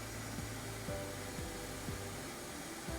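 A SITEK 4300 spin rinse dryer whirs in its dry cycle as it slows to 1,000 RPM, a loud, steady mechanical drone with a faint repeating wobble in pitch and no voices.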